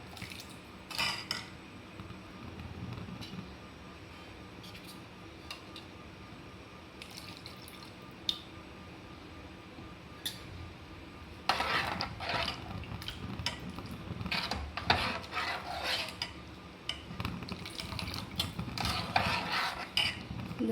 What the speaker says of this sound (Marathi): याला थोडे ढवळायचे देखील आहे. जेणेकरून तांदळाचे पीठ छान मिक्स होईल.